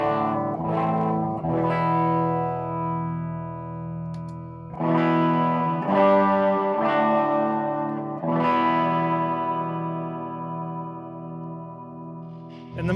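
An electric guitar plays through a spring reverb effect pedal that simulates an old Fender amp, giving several strummed chords that ring out with a shimmering, spacious wash and lingering tails.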